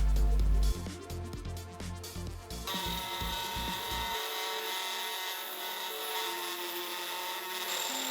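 A drill bores a hole through a saw-steel trigger sear for a homemade six-shot crossbow, a loud steady whine with gritty low rumble at first, settling into a sustained high-pitched grinding tone.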